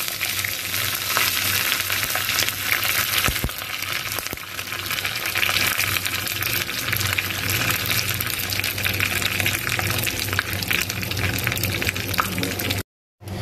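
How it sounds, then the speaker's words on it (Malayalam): Mustard seeds, dried red chillies and curry leaves sizzle in hot oil as a tempering for a Kerala sadya pineapple and grape madhura pachadi, a steady close crackling that cuts out briefly near the end. "ഇനി നമുക്ക് അതിലോട്ട് താളിക്കാൻ ആവശ്യമായിട്ടുള്ള വറ്റൽമുളക് ചേർത്ത് കൊടുക്കാം."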